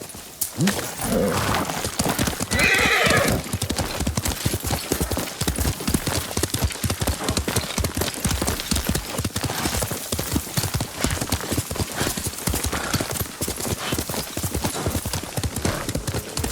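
Hooves of a horse in Ghost of Tsushima gallop in a fast, continuous clip-clop rhythm, loud and near, with a brief neigh early on.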